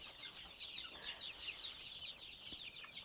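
Naked neck chickens cluck and chirp steadily in the background, a soft continuous chatter of several birds at a moderate distance.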